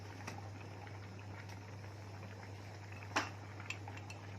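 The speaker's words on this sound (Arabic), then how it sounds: "هنزل بمعلقه شطه اهي وهقلبها لما ريحه الشطه تطلع" A spoon stirs chili powder into hot oil in a frying pan for Egyptian koshary hot sauce. A few soft metallic clinks, one sharper, sit over a faint hiss and low steady hum.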